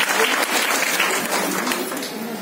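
An audience at a talk about hormonal balance applauds, a steady and fairly loud burst of many hands clapping throughout, with no voice over it.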